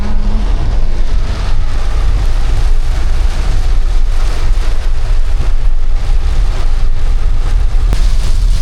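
Heavy typhoon rain pours steadily with a broad roaring hiss, strong wind gusting underneath, loud and continuous without pause.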